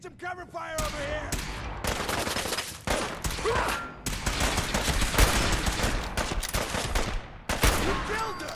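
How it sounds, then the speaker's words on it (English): Dense gunfire from a Fallout 4 firefight, with rapid automatic bursts and single shots rattling almost without pause, loud and close, with a brief voice call heard near the start. "Need some cover fire over here."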